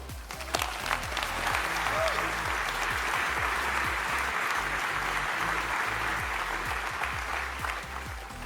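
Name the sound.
audience applause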